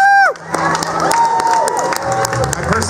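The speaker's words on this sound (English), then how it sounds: "Let's give them a round of applause." A crowd cheers, whoops and claps loudly at a Battle of the Bands event, with children shouting and a whistle-like tone at the start, the noisy burst sustained throughout.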